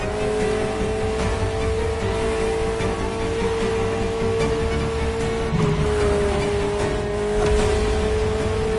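A Ferrari sports car, once the fastest Ferrari ever built, drives with a steady loud engine drone and tire noise, the pitch holding fairly even with a slight dip midway, heard alone without talk.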